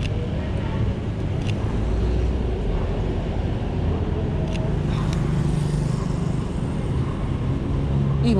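A BMW car drives along a night street in Jakarta, a steady traffic rumble that stays loud and continuous with faint higher hiss, under a general roadway backdrop.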